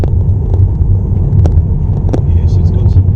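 Inside an electric car accelerating gently in chill mode, a low, steady cabin rumble of road and tyre noise dominates, with a few brief clicks and knocks over it.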